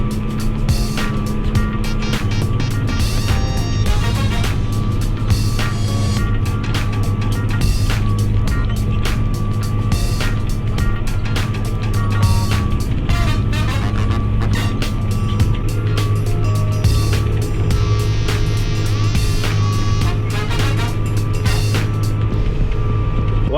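Old John Deere 7520 tractor doing tillage field work, a steady loud diesel engine drone with clanking and rattling over a bumpy field, running continuously without talk.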